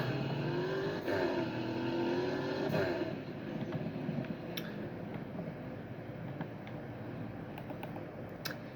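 A Porsche engine in the Fix It Up game revs and whines with a rising tone while drifting, followed by quieter mechanical clicks and taps.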